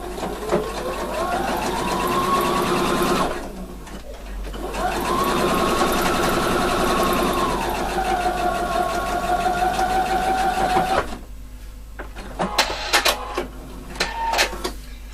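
A sewing machine stitches a 1-centimeter seam in fabric for a hidden buttonhole closure, whirring steadily in long runs that pause and restart, ending with short clicks and handling noises.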